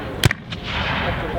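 A Civil War reenactment gun firing one-ounce lead shot gives a single sharp, loud report, followed by a rolling, echoing rumble across the field.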